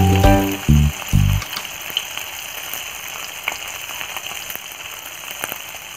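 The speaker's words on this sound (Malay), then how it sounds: "Kita coba menggoreng dulu ya Bunda" After a few loud low thuds at the start, a steady crackling sizzle of cucur ringgit batter frying in hot oil over medium heat fills the rest, close and continuous.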